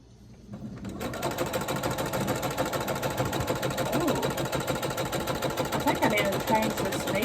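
A sewing machine stitching quilt block pieces together runs steadily and close, a continuous rapid mechanical whir after a brief quiet start.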